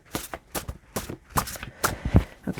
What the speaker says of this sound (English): we're just going to do some shuffling and pull a few cards here